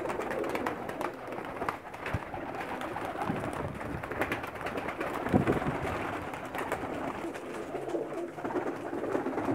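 Racing pigeons on a rooftop in Pakistan coo and flutter steadily, the cooing close and continuous with rustling and scattered background noise throughout.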